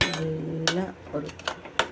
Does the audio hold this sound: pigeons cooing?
no